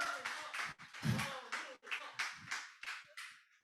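A small audience at a book concert gives sparse, quiet applause for an arriving guest, with a handful of distinct claps and a brief flurry rather than a full ovation.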